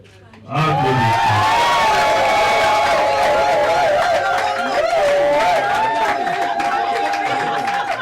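Guests at a civil wedding ceremony burst into loud cheering and clapping, with high wavering voices and crowd chatter rising suddenly and holding steady for several seconds.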